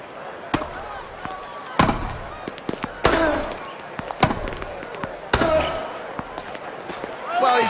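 Tennis shots in the video game Grand Slam Tennis 2, Djokovic versus Roddick, with sharp ball strikes and bounces trading back and forth in an irregular rally under a commentator talking.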